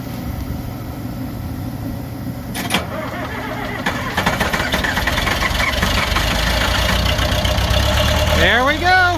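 A GEHL 4615 skid steer engine cranks, catches and settles into a rough, loud idle nearby, with a throbbing mechanical rumble and some knocking. Voices talk over it.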